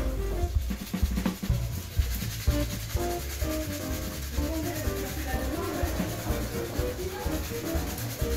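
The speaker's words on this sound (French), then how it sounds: "prendre un peu de savon et brosser uniquement les ongles" A surgical scrub brush with soap worked over fingernails during a pre-operative hand disinfection, a continuous close bristly rubbing with faint music in the background.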